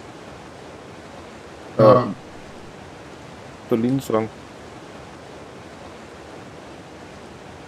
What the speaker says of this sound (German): Ich stehe gerade am Wasserfall.